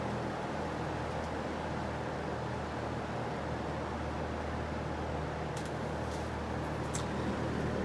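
A 1958 Westinghouse reversible box fan runs at a steady, even whoosh of moving air with a low motor hum underneath, constant and close, no voices.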